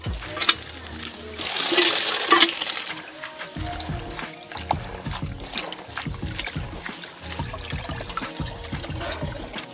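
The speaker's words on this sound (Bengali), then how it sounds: "চলো এগুলো ধুয়ে নেওয়া যাক" Leafy greens being washed by hand in water, with a loud burst of running tap water, then repeated close splashes and sloshes as the leaves are swished and lifted.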